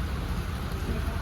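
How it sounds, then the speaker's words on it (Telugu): Heavy rain falls steadily in Hyderabad near the Charminar as a dense, even hiss with a low rumble beneath, continuous and close. "ఇప్పుడైతే వచ్చినాం, వర్షం స్టార్ట్ అయిపోయింది."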